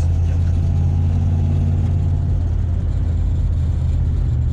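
A 1947 Ford fitted with a Toyota 1UZ VVTi V8 drives along, its engine a loud, steady low rumble heard from inside the car with no talking.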